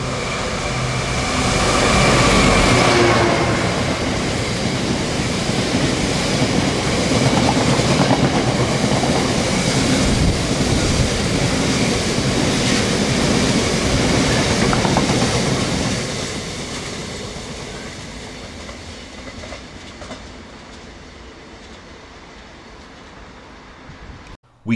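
A heavy Class 66 diesel freight locomotive hauling a train of wagons rumbles past close by at Blaydon, wheels clattering steadily, then the noise eases off as the wagons pull away.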